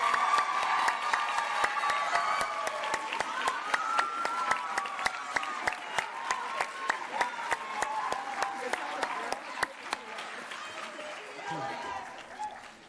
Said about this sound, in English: one more big round of applause for our junior scholars